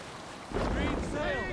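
A Viking longship crew in Assassin's Creed Valhalla surges into motion with a sudden swell of water, wind and creaking wood, loud and close after a quiet opening. Faint tonal game sounds drift over it, and no one speaks.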